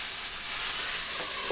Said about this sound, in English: So it was quite a fierce, I should say, sizzle